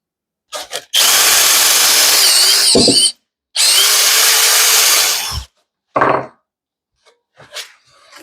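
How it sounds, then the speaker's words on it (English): A power drill whines in two long, loud bursts with short pauses between, then a brief spurt and some faint clicks as it winds down, drilling into a car starter motor. "I'm going to drill the hole in the starter motor"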